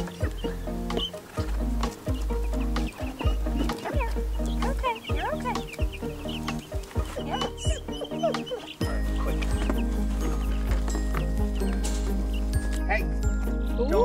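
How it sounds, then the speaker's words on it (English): Guinea fowl and young chicks outdoors together, giving repeated close clucks, peeps and chirps in a busy layered mix over a steady low hum, with people talking throughout. "the first time the guineas and chicks have ever seen each other"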